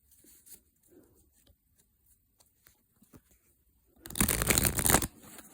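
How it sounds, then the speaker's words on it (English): A Romantic Tarot deck is shuffled close up in one loud riffling burst near the end, preceded by faint taps and soft card handling in near silence. "so I'm just shuffling the cards now,"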